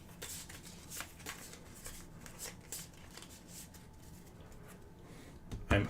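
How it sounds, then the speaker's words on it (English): Cards from the Pathfinder Adventure Card Game are shuffled up close on a table, giving a run of quick, papery riffling bursts with no talk over them. "Shuffle that barrier back in since it wasn't defeated."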